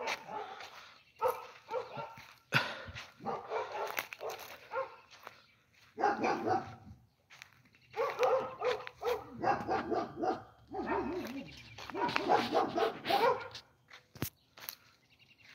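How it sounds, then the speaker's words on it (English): An excited dog at a home barks in repeated bursts, yipping and whimpering between them, loud and fairly close with short pauses. "Crazy dog."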